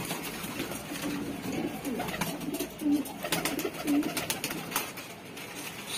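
Pigeons with white eyelids, kept as flying breeds, coo softly in a steady series of low repeated calls, a little distant and alone with no talk.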